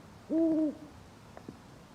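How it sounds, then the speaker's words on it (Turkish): A single owl hoot sounds in a garden, one smooth tone lasting about half a second, clear over quiet background noise and followed by a couple of faint soft knocks. "Bahçenizde baykuş var."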